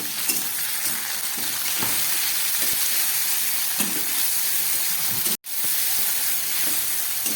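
Tomato tipped into a pan of frying onions and dry red chilli for a pond crab curry, giving a steady, loud, close sizzle and hiss with faint stirring scrapes and one brief dropout.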